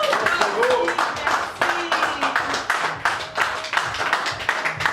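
Audience at a birthday party clapping in a steady stream of sharp claps, with voices talking and calling out over the applause.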